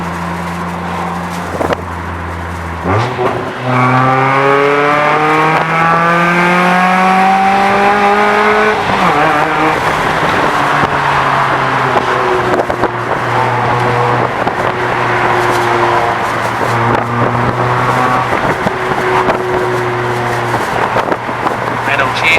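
A loud 2009 Mitsubishi Lancer engine, stock apart from an intake, revs up, its pitch climbing sharply, then settles into a deep, throaty exhaust rumble that rises and dips.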